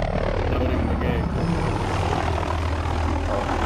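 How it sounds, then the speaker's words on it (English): A helicopter in the video game Call of Duty: Modern Warfare gives a steady, dense rotor and engine drone that stays loud and unbroken. "Oh, here's our helicopter."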